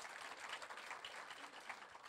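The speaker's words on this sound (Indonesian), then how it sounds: "Tepuk tangan buat Tuhan Yesus." A church congregation applauds during a sermon, a continuous fast patter of many hands clapping, faint and distant, with no voice over it.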